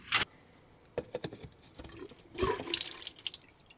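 Water splashing and running while rinsing laundry in an off-grid washing setup, with a sharp knock at the start, scattered drips and sloshes, then a louder burst of pouring and swishing water near the end.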